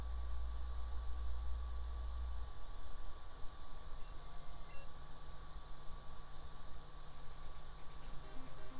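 Radio static from the Pokégear radio in the video game Pokémon Crystal, a flat continuous hiss of white noise with a faint steady tone running through it, unbroken and alone for several seconds.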